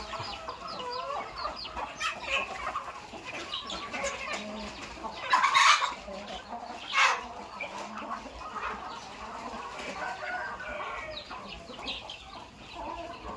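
Chickens cluck and chatter softly and continuously nearby while eating feed mixed with azolla, with a couple of louder squawks partway through.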